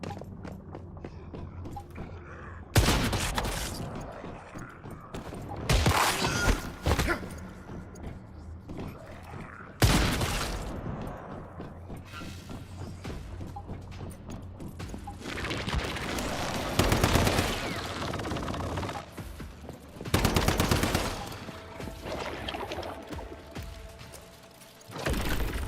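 Heavy gunfire in the video game Once Human: loud, close bursts of rapid shots break out repeatedly across the stretch, with short gaps between them and occasional mechanical clanks.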